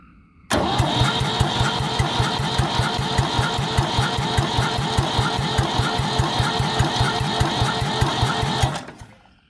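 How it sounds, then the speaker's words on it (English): A 1966 Ford 4000 tractor engine cranked over by a remote starter wire, a loud close rapid rhythmic chugging that runs steadily for about eight seconds before cutting off. "I actually got my remote starter wire here, so let's turn it over."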